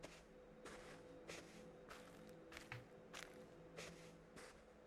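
Quiet footsteps in the video game The Witness: soft, evenly spaced crunchy steps, about seven of them, fairly faint over a low steady ambient hum.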